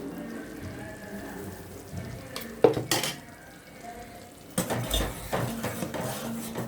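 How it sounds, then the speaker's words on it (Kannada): Cumin sambar masala frying in a pan, a soft steady sizzle underneath, broken by a few metallic scrapes and knocks of a spoon stirring against the pan. "ಸ್ವಲ್ಪ ಹಸಿ ವಾಸನೆ ಹೋಗೋ ತನಕ ಇದನ್ನು ಫ್ರೈ ಮಾಡ್ಕೊಳ್ಳೋಣ."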